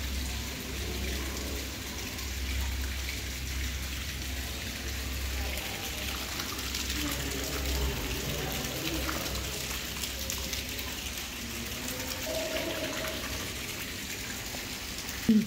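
Water runs and splashes steadily in a broad hiss, with a low rumble underneath and faint voices now and then.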